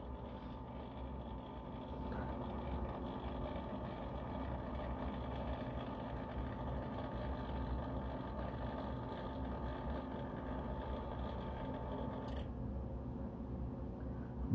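A Rotor-EZ antenna rotator motor turning, a steady low mechanical hum that runs unbroken and fairly faint, with a slight shift near the end.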